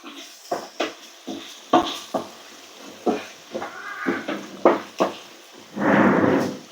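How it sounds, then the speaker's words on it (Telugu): A spoon stirs chopped vegetables with salt and chilli powder in a pan, giving about a dozen sharp, separate clanks and scrapes against the metal, close up, followed by a brief rustling scrape. "వేసేసుకొని దీనికి ఉప్పు కారాలు పట్టేంత వరకు మిక్స్ చేసుకోవాలి"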